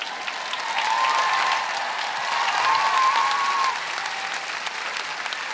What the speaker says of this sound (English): That's the applause of parents who had to look after their own children during lockdown.